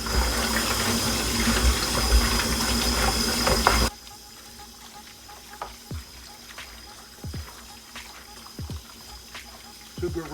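Raw meat rinsed under running water for gumbo: a loud, steady gush of tap water at first, then it stops and leaves quieter splashes and drips in a sink nearby.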